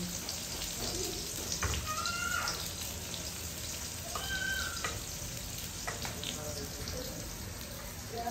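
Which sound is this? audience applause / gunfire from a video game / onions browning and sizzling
onions browning and sizzling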